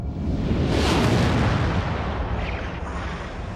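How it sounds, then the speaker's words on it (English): A huge deep explosion standing in for the Big Bang, a single massive boom that swells within the first second into a broad rumbling roar, then slowly decays into a long fading rumble. "there was the mother of all explosions, the Big Bang"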